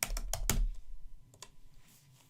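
A few quick keystrokes on a computer keyboard entering a MATLAB command, close and distinct, a cluster of clicks at the start and two softer taps later.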